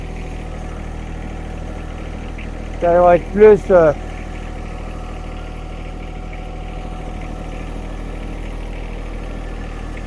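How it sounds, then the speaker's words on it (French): A tractor engine runs steadily in the background while it moves a chicken coop. The low, even hum continues throughout, and a few brief spoken words come through near the start. "mais là, c'est juste pour le déménager avec le tracteur"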